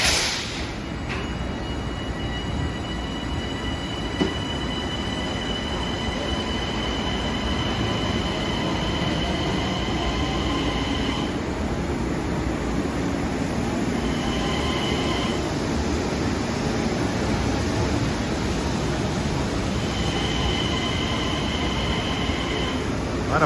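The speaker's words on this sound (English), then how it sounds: "This is 719 arriving from Hempstead, another branch that's getting the luxury of all of this great service to Manhattan." An LIRR train, number 719 from Hempstead, rolls into Grand Central with a steady heavy rumble of wheels and undercarriage, while high, thin wheel squeals come and go over the continuous roar.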